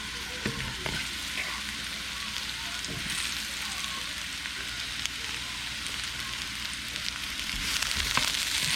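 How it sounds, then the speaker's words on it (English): Tofu and mushrooms sizzle steadily in oil in a saucepan over medium-high heat, a dense continuous frying hiss with small crackles and pops, close and fairly quiet, with no talking. "Listen to that sizzle."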